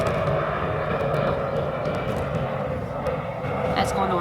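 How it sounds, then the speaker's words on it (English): An aeroplane passes overhead as a steady, broad roar that fills the whole clip, with a person talking close by on top of it. "an aeroplane going overhead."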